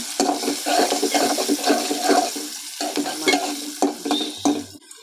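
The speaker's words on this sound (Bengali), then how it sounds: "পেঁয়াজ, কাঁচামরিচ ফালি, একটু হলুদের গুঁড়া, মরিচের মশলার গুঁড়ো, হালকা মরিচের গুঁড়ো দিয়ে নাড়াচাড়া করে" A spoon stirs sliced onion, green chili, turmeric and chili powders around a hot pan, giving loud, close, irregular scraping and sizzling strokes that pause briefly between movements.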